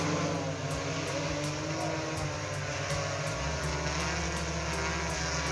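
An agricultural spray drone working over a soybean field, its rotors giving a loud, steady, close high-pitched whine and buzz with slight shifts in pitch, no talking.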